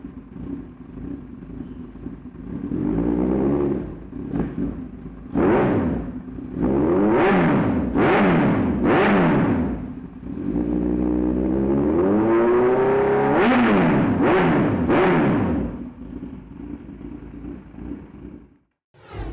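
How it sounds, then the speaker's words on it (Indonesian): A motorcycle engine revs repeatedly, rising and falling in sharp bursts with a deep throaty exhaust, close and loud, then cuts off near the end. "Gimana sih suara knalpotnya?"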